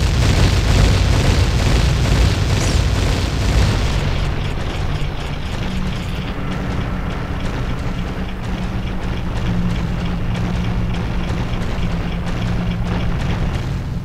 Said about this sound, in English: now I'm pretty sure I have to blow this up, because there's bombs everywhere.